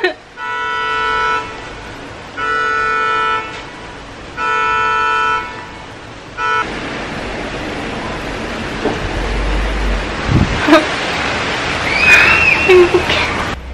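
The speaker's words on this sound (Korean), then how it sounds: "아 비가 갑자기 쏟아져요." Heavy rain suddenly pours down, a dense, loud hiss filling the second half after three sustained horn-like tones.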